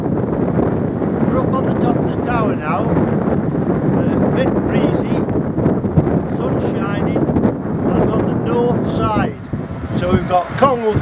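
Wind buffets the microphone steadily on top of a church tower, a loud continuous rumble throughout, while someone talks over it for most of the stretch.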